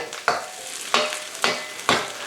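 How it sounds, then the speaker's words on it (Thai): A spatula scrapes and tosses rice being stir-fried with XO sauce in a hot wok four times in an even rhythm, each stroke a sharp scrape trailing into a soft sizzle. "ผมพยายามจะพลิกข้าวกลับมาแล้วก็คลุก ขยี้ให้เท่ากันทุกด้านนะฮะ"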